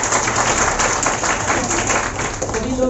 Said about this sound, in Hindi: एक जोरदार तालियां हो जाएगी।